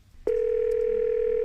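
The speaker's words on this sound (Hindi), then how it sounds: "उसने तुरंत राजीव को फोन लगा दिया।" A telephone dial tone starts abruptly after a brief pause and holds as a steady, loud continuous hum through the rest of the moment.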